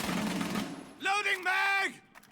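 Shotgun blasts in a competitive video game match ring out as loud, rough bursts, followed by strong tonal in-game sounds and some voices.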